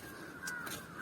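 A crow caws outdoors, a couple of harsh calls carrying over a steady faint background hum, fairly distant and without any talk.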